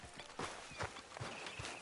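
Horse hooves clip-clop at a steady walking pace in the video game Red Dead Redemption 2, about five soft, evenly spaced thuds, fairly quiet and close.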